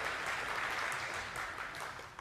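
An audience at a lecture presentation claps steadily, a dense, even patter of many hands filling the room for a couple of seconds before tapering slightly at the end.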